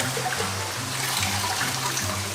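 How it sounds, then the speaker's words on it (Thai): Tap water runs steadily into a kitchen sink while vegetables are washed, a continuous close splashing stream with no talk over it. "ล้างเสร็จก็เอาผักขึ้นนะคะใส่ไว้ในถ้วย"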